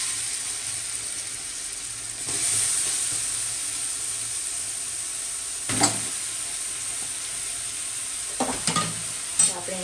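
Raisins fry in hot ghee in a pan for carrot halwa, giving a steady close sizzle broken by a few scraping stirs, with no voices.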